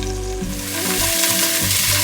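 Beef pot roast sears in a hot pan right after being flipped, a loud, continuous close-up sizzle and crackle of fat frying with no voices.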